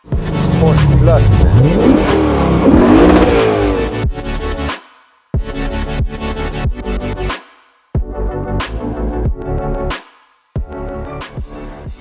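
A Lexus RC F's exhaust roaring through a series of hard revs: one long, rising blast followed by several short, sharp throttle bursts separated by abrupt silences, loud and close.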